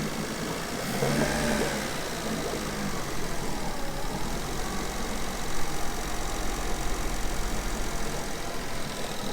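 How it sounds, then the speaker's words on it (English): A car engine idles steadily up close, a continuous low rumble with a slight uneven knock and no voices. "So, it's idling fine right now."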